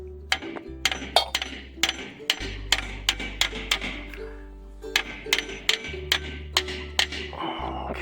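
A hammer strikes a rusted front brake drum again and again, sharp metallic blows landing in a quick, slightly uneven rhythm over a low steady hum.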